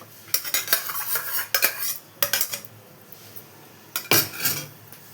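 Cooked rice being scooped out of a pressure cooker into a bowl for tamarind pulihora, heard as close metallic clinks and scrapes of a spoon against the vessel in short irregular bursts, with no talking.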